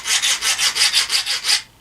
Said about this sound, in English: Those grooves make a really cool sound when you slide them together.